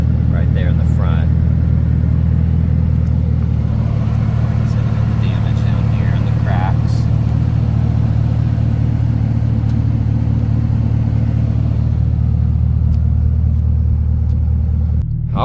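A 2019 Chevrolet Camaro ZL1 fitted with a Corsa intake produces a steady, loud low engine rumble throughout, heard from inside the car, with a few faint clatters and ticks above it.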